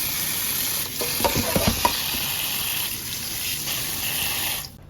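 Boiled water is poured off pork ribs in a kitchen, a steady splashing gush against a sink with brief clattering knocks, fairly quiet and ending abruptly.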